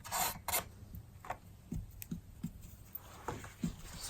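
Oil paint mixed with pigment being wiped off into encaustic wax medium, a series of soft scraping and rubbing strokes at close range, quiet and irregular, with no talking.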